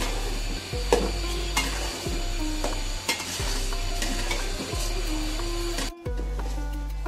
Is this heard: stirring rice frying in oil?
yes